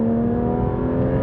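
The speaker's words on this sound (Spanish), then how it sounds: "Pero vamos a hacer un aceleroncito de primera." Porsche GT3 RS engine revving hard in first gear, a loud, steady, close-up roar with a strong tonal drone throughout, no voices over it.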